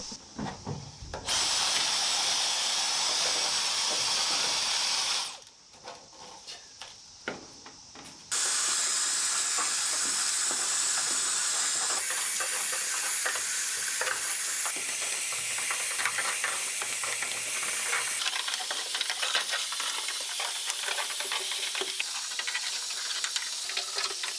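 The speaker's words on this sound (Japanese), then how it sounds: "とりあえず車内ゴミがすごいので掃除機使って綺麗に掃除していきます。" A loud, steady vacuum cleaner whine runs almost throughout while cleaning a Mazda RX-7 FD3S interior, broken briefly by a short dip midway, with the suction pitch shifting slightly as it moves around.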